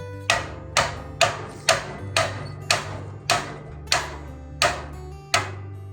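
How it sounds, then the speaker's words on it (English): About a dozen sharp metallic hammer taps on a steel rat rod subframe, evenly spaced every half second, each ringing briefly, close up over a low background hum. "just tapped it with my hammer."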